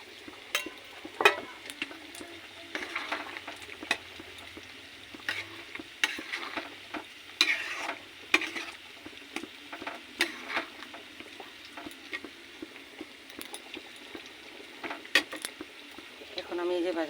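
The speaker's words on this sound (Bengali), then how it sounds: "এখন আমি ভাজা করে রাখা আলুটা ঢেলে দিব। আর এই যে খোলায় ভাজা মশলাটা গুঁড়া করে রেখেছিলাম সেটাও আমি ঢেলে দিচ্ছি।" Fried potatoes and pan-roasted ground spices going into a boiling curry, followed by stirring; soft sizzling and bubbling sit under intermittent scrapes and clinks of a spoon against the pot, with a voice speaking over it.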